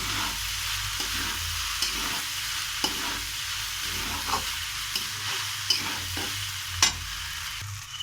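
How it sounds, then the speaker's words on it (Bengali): Drained pasta frying with already-fried vegetables in a pan, a steady close sizzle broken by regular scraping stirs of a spatula, with no talking. "আমি এই জল ঝরানা পাস্তাটা দিয়ে এবারে এটা ভেজে নেব ভালো করে ভেজে নেব দু মিনিট ধরে"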